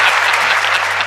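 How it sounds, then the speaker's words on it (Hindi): Loud, dense audience applause at a Hindi comedy poetry recital, a steady wash of clapping filling the whole moment without a break. "ताली जोरदार बजती है यहाँ पर"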